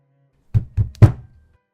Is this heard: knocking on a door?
yes